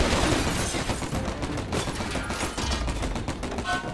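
Dense, continuous gunfire barrage during a boss fight in the video game Stranglehold, with rapid overlapping shots forming a loud, unbroken automatic-fire wall.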